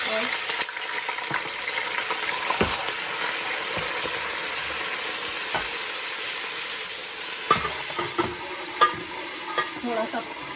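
Garlic ginger paste sizzling in a pan with fenugreek, cloves and curry leaves, a steady close crackle broken by sharp clinks and scrapes of stirring.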